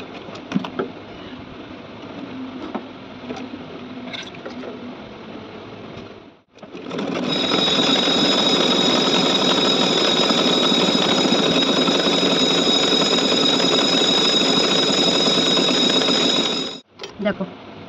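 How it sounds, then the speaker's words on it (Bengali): A sewing machine winds thread onto a bobbin with a loud, steady, high-pitched whir that runs unbroken for about ten seconds. Quieter mechanical clicks and handling come before it, and it stops abruptly near the end. "তারপরে এই যে সুতোটা ভরছি, পুরো ভর্তি করে নিই ববিনে"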